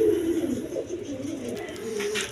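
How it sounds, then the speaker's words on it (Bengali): A pair of Giribaz pigeons coos in a low, steady, rolling call, close and continuous. "দর্শকবৃন্দ এখানে হাই কোয়ালিটি গিরিবাস কবুতর আছে, কোয়ালিটি সম্পন্ন কবুতর"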